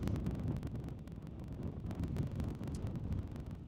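Steady, heavy coastal wind in Cornwall buffeting the microphone, a continuous low roaring rumble with no pauses throughout.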